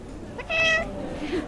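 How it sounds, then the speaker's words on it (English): A cat meows once, loud and close, a rising harmonic call set against a murmuring indoor background at a cat show, with a fainter second mew near the end. "The Arklatex Cat Society's cat show this weekend showcases some of the most perfectly adorable cats"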